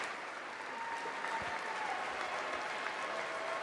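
Applause fills the chamber during a State of the Union address, a soft, steady, distant-sounding wash of clapping that sustains for several seconds.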